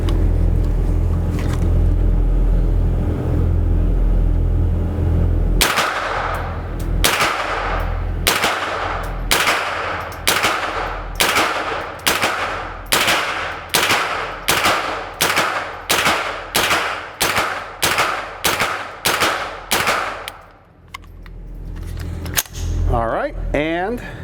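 Rapid string of sharp .22LR reports from an AR-15 fitted with a CMMG conversion kit, about sixteen evenly spaced close shots fired in steady succession, then a pause and some handling clatter at the end.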